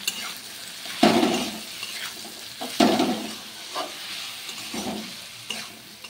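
Kochur loti (taro stolons) frying with turmeric and chili powder is stirred in a pan, a continuous sizzle punctuated by several loud, rhythmic scraping strokes of the spatula.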